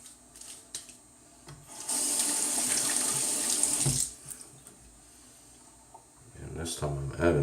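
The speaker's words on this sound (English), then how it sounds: "Let's add some water." Tap water runs steadily into a sink for about two seconds while shave soap is being wetted, with quieter handling and rubbing sounds after it and brief talk near the end.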